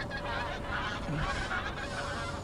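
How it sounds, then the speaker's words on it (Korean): Migratory geese honk as they fly over a winter fishing spot at sunrise, a few calls standing out over steady outdoor background noise, moderately distant and continuous. "하객진을 펼치며 날아가는 우리 철새들"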